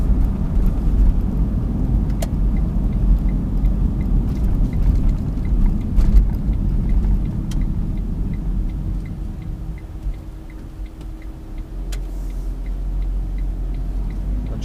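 A 2012 Smart Fortwo Coupe Passion mhd with Softouch gearbox accelerating hard, heard from inside the cabin as a loud, steady engine and road rumble that eases slightly partway through as the gear change comes late.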